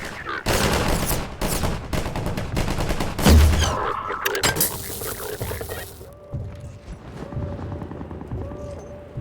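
Video game gunfire rattles in dense rapid bursts for several seconds with a heavy boom partway through, then cuts to quieter game sounds near the end.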